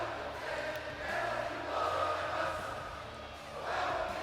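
Crowd noise from the WWE 2K22 wrestling video game during an NXT 2.0 ladder match, a steady roaring, swelling arena cheer heard throughout at moderate level.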